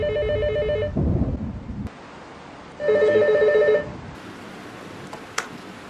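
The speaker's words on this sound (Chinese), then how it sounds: "不过他终于等来了梦露的电话。" A telephone rings with an incoming call: two bursts of a bright electronic ringtone separated by a pause, loud and close, with rumbling noise between the bursts and no talk.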